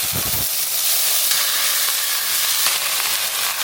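Whole spices crackling and sizzling in hot cooking oil, a steady close frying hiss that fills the clip without pause, alone with no voices.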